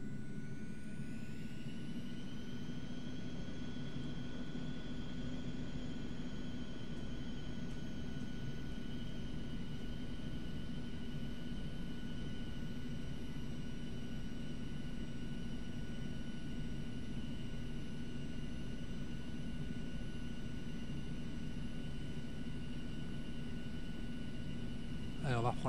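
Twin jet engines of an Eclipse 550 NG idling at low thrust while taxiing, a steady whine with sustained high tones and a constant rumble heard from inside the cockpit, unbroken for about 25 seconds.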